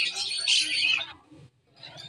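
Caged birds calling at the Srirampur bird market: a bright, loud burst of chirping and whistling that breaks off briefly, then resumes more softly.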